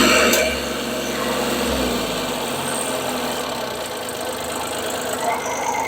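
A Shibaura SL1643 tractor engine runs at a steady idle, with a loud, even diesel rumble and an exhaust drone that continues without a break throughout.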